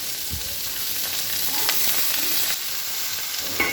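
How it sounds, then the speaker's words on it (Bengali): Tomatoes hit a pan of frying cauliflower and set off a loud, steady sizzle with bubbling and spitting oil. The hiss carries on continuously with no voices. "এবার আমি টমেটোগুলো দিয়ে দেবো।"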